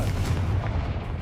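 Confringo spell explosion in the video game Hogwarts Legacy, a deep rumbling blast that is heavy in the low end and fills the whole brief moment with a dull roar.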